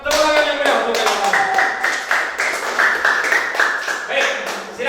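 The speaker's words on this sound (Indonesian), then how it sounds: "tepuk tangan yang meriah untuk kalian" Students clapping in a classroom during group presentations, rhythmic clapping mixed with sustained tonal voices or chanting, fairly loud and close throughout.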